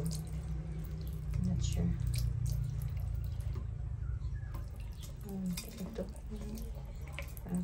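Water drips from a leaking pipe at a rural outhouse under construction, the faint drips and trickles running beneath close conversation.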